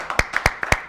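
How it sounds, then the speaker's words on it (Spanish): A few people clap in a studio audience for a guest on a television show, sharp separate claps in a quick uneven rhythm, close and with no talking. "Un aplauso para ella que está aquí con nosotros."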